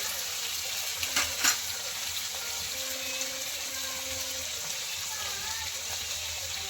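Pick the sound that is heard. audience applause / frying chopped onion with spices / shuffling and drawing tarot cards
frying chopped onion with spices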